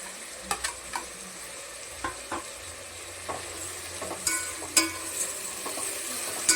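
Tomato and green chili being stir-fried in a pan, a soft continuous sizzle broken by scattered spatula scrapes and taps, near but fairly quiet, with no one talking.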